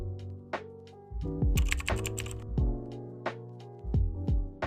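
Typing on a mechanical keyboard with responsive switches: fast, close clacky keystrokes in uneven bursts, with a few louder bottom-out clicks and short pauses between runs.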